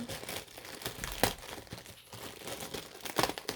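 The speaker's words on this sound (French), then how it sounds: "le sopalin, je vous le montre parce qu'il est un peu particulier. Donc, je vais le déballer." Plastic wrapping on a pack of paper towels crinkles and crackles steadily as it is torn open and unwrapped, fairly quiet and close, with no talking.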